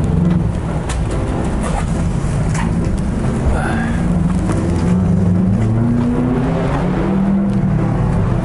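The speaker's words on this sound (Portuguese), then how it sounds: "passou o Subaru aqui agora" A Subaru car passes on a city street in Newark, its engine rumble swelling and fading through steady traffic and outdoor noise, fairly close, with no clear talking.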